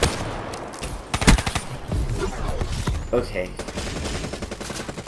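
An MX Garand rifle fires in Black Ops 3 multiplayer, with sharp, loud shots near the start and scattered battle noise after, under a player's brief talking.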